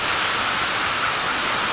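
Strong wind and heavy rain make a dense, steady roaring wash of noise, loud and unbroken with no gaps.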